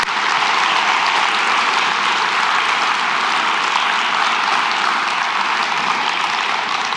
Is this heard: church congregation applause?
yes